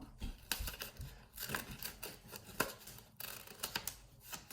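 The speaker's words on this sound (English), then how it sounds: "let's just cut it open" Scissors cutting open a homemade paper blind bag with stationery inside, a run of crisp snips and crinkles in an irregular rhythm, heard up close and quiet with no talking.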